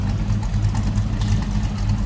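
A 1941 Chevrolet Super Deluxe Coupe street rod with a 350 engine idles with a low, steady, even rumble and mild exhaust throb, close by and without talk.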